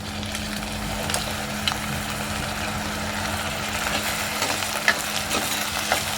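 Soaked millet and potato fry in a pan for bajra khichdi, a steady close sizzle with scraping stirs and occasional spoon clicks against a constant low hum, no speech over it.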